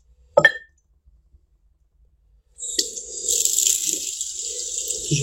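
Water running from a tap onto a bowling ball being rinsed in a sink, a steady hiss starting partway through after a single sharp clink and a long silence, with faint splashing underneath.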